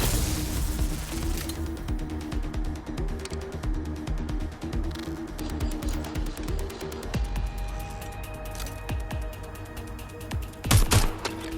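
Rapid gunfire bursts in the Watch Dogs Legion video game, repeated close shots over a dense action mix, ending with a louder crash of impacts.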